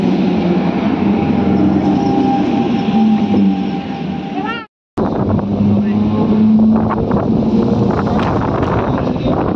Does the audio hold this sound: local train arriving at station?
yes